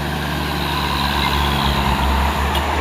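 A heavily loaded box truck labors up a steep hill. Its engine drones loud and close in a constant low rumble with no pauses.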